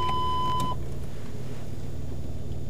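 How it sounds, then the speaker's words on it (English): Rear parking aid on a 1999 Rover 75 sounds a steady electronic tone that holds briefly, then cuts off, leaving a low background hum. "Once the obstruction is only 35 centimetres away, the beeps become constant,"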